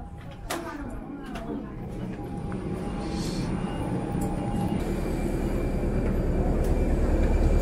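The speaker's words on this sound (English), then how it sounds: "airplane." Steady, loud jet aircraft engine roar at an airport, heard from an observation deck, building gradually in a continuous broadband rumble with faint background activity.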